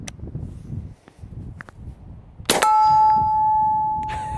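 A Henry SPD CRUSR .45-70 rifle fires at a steel target outdoors: a sharp, loud crack followed by a long, bright metallic ring that sustains and slowly fades, after faint footsteps and rustling.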